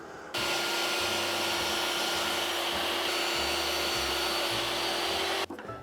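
A power saw cuts cabinet pieces to rough size in a workshop, a loud sustained whine running for several seconds before stopping abruptly, with no talking.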